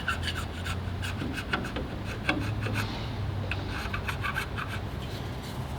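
Old gasket buildup is scraped by hand off the engine surface of a 2019 Ford F150 5.0, a close, continuous rasping scrape in quick repeated strokes.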